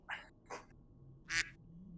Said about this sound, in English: Yeah, I can't believe there's a duck this far into the water.